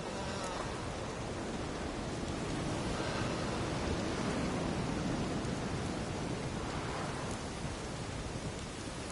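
A storm in The Witcher 3, with steady heavy rain hissing throughout and a soft low rumble of thunder beneath it, continuous and enveloping, with no talking.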